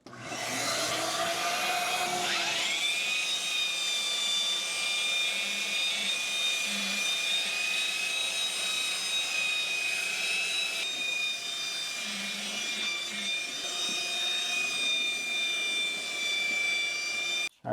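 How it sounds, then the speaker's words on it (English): A floor sander with a vacuum hooked up, working over a plywood floor: a loud, steady whining drone that spins up in the first seconds and then holds constant, close by, with faint knocks underneath. "And I got my vacuum hooked up to the sander as well, but it easily pulls off so I can vacuum it up as I go."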